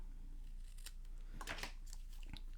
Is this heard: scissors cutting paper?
yes